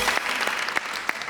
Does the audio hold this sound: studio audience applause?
yes